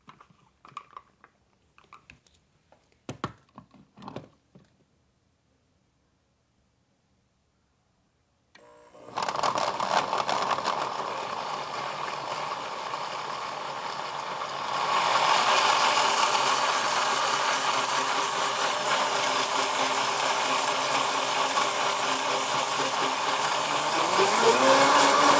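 A blender whirs loudly as it mixes dates with an equal weight of water into date syrup, starting after quiet handling clicks and rising in pitch and strength partway through.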